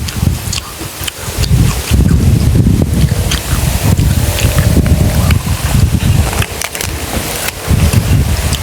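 Cold wind roars steadily and loudly, buffeting the microphone with heavy low rumbling gusts throughout.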